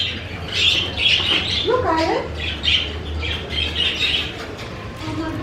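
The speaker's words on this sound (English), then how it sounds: "Look at all the birds." At a busy outdoor market, caged birds chirp and squawk in quick, repeated calls while nearby people talk over the steady crowd murmur.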